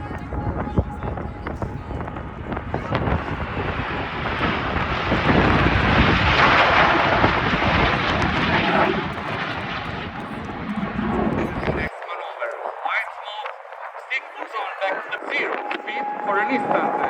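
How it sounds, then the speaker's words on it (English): The Frecce Tricolori solo jet at an airshow passes with a powerful roar that builds to a peak and then fades, while an announcer's voice runs over the engine noise. "this is the tail flight of the solo of Frecce Tricolori"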